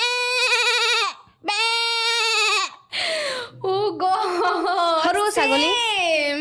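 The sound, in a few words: girl imitating a goat bleating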